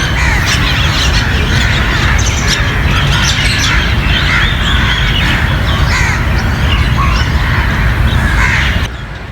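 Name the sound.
birds calling in the afternoon, crows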